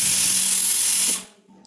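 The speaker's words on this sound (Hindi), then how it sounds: "मैंने कुकर बंद किया और 2 सीटी का वेट करने लगी" A pressure cooker lets off a loud, steady hiss of steam for about a second before cutting off sharply, leaving a quiet kitchen.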